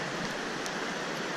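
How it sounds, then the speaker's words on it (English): The Potomac River near Harpers Ferry rushes in a steady, even wash of broadband noise, heard from a nearby trail without pause. "and you can hear and see what is behind me, or off to my right. That's the Potomac River."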